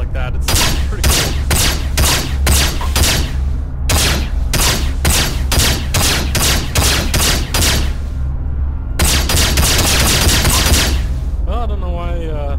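Rapid bursts of energy-pistol gunfire in the Star Citizen space game, loud and close, firing in rhythmic volleys with a short pause before another fast string of shots and a warbling tail.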